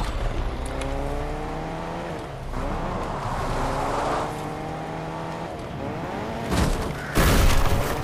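Fortnite car in a video game, its engine droning with rising pitch sweeps, then a loud impact burst near the end as the car crashes into a tree.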